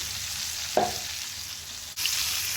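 Pieces of rui fish fry in a pan on a stove, giving a dense, even sizzle with a short clatter near the start and a brief dip partway through.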